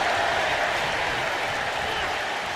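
A video game arena crowd in WWE 2K25 cheers in Omaha, Nebraska, a dense, steady roar of noise with scattered applause running the whole way through.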